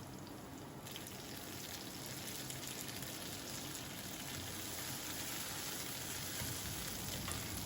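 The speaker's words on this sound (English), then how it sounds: "In the hot oil, first add the white part of the green onion, fry it a bit, then add the chopped garlic and red chili." Green onion whites, chopped garlic and red chili sizzle in hot oil with a soft, continuous crackling hiss that stays steady and fairly quiet throughout.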